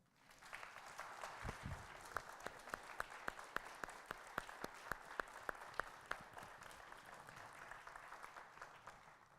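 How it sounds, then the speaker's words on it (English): A congregation applauding during a church service, a soft, distant wash of many hands clapping, with a few sharper, steady claps standing out on top throughout, all fairly quiet. "nvite you to join me in offering through our applause, our expression of thanks to Jennifer McLean."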